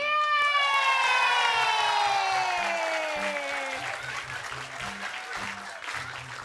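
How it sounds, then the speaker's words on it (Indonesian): Studio audience applause on an Indonesian comedy TV show, clapping fading under a loud descending musical sweep or whistle-like effect at the start, then lighter clapping with low rhythmic beats continuing. "Tepuk tangan buat mereka dulu, Ibu."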